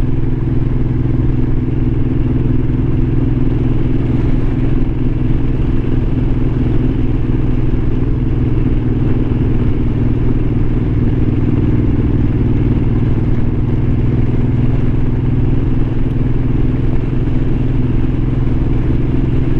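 A motor vehicle engine accelerating in second gear drones loudly and steadily from up close, a continuous low rumble with no clear pause or gear change.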